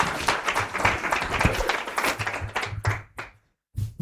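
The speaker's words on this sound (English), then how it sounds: "Another round of applause for Mr. President." Audience applause at a formal dinner, a dense wash of clapping from many hands filling the room, then tapering off with a brief pause before a few claps resume.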